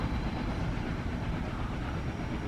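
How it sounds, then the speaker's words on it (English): Goods train passing at a heritage railway steam gala, a steady rumble and rattle of wagons rolling by close and loud for the whole stretch, with no voices. "I'm glad they put on these goods trains in Galas"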